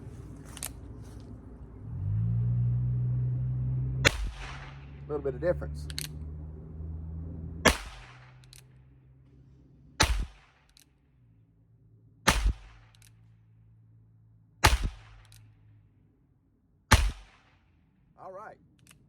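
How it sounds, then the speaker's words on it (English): Six sharp gunshots from a Ruger .22, spaced a couple of seconds apart, loud and close, with a brief spoken remark and some handling noise between shots. "Let's fire these 6 rounds out of this"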